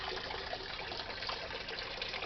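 Steady, continuous splashing and trickling of falling water from a small waterfall added to a turtle pond, constant and fairly close with no voices.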